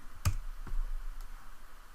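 Computer mouse clicking at a desk, one crisp click near the start and a fainter second click soon after, close and otherwise quiet.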